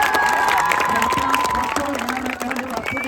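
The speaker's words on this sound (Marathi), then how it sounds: "मॅकमिलन गोविंदसाठी एकदा जोरदार टाळ्यांचा गजर करा" A crowd at a beach cricket match applauds and cheers for a few seconds, with a voice carrying over the clapping and shouts.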